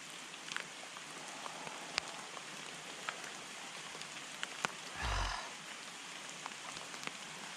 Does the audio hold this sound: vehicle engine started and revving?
no